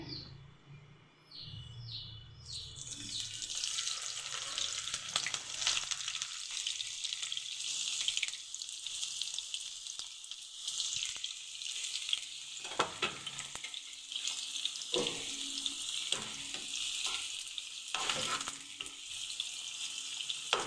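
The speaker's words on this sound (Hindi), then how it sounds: "वहाँ पे आयल गरम हो गया, मैं प्याज ऐड करूँगी" Onions frying in hot oil for degi-style chicken korma, a loud continuous sizzle starting after a quiet moment, with occasional stirring clanks and faint birds chirping in the background.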